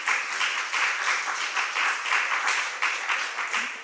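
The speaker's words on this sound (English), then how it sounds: "hold your applause until I announce the fourth place too" Steady applause from an audience, moderately loud and continuous, with a gently pulsing rhythm of many hands clapping.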